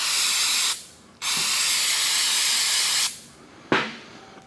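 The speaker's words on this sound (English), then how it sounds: "Use some carburetor spray." Carburetor cleaner sprayed onto an oil drain bolt from a Ford Edge 2.0L during an oil change: two long, loud, steady hissing bursts separated by short pauses, then a brief sharp spurt near the end, no talk.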